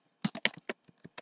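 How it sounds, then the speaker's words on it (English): A computer keyboard as someone types a web address on a Windows 8 computer: about eight crisp, close keystrokes in an uneven rhythm, with no talking. "Enter in the address for the site."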